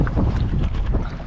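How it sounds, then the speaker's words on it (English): Steady wind rumbles across the microphone on a boat while fishing for snapper inshore in Australia, a close, continuous low buffeting with no voices. "It's pretty windy out there."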